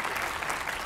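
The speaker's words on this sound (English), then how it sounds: "give them a quick round of applause" A brief, steady burst of audience applause at an education policy event, moderately distant and even, with no voices over it.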